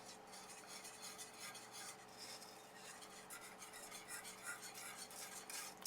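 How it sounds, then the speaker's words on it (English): A whisk stirs lemon Jell-O into a cream cheese glaze in a bowl, producing a faint, continuous scraping and swishing rhythm up close. "So we're just going to whisk that on in there."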